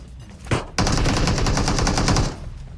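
An M416 rifle from the PUBG Mobile game fires a rapid automatic burst after one sharp opening shot, loud and close, with the rattle continuing for about two seconds before cutting off.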